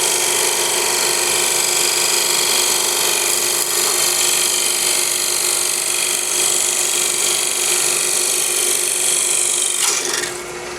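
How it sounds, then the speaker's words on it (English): Woodturning tool cutting a thin ring off spinning ambrosia maple on a lathe, a continuous loud bright scraping hiss that holds steady, then tapers off near the end. "I'm going to spin my tool rest around and slice the ring off from outside."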